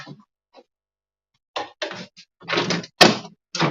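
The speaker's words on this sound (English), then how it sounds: "walk out this door" A house door is opened as someone walks out, giving a cluster of rattling, clattering knocks and a sharp bang after a quiet pause, heard close up.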